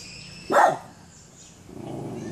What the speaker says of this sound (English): He's always barking.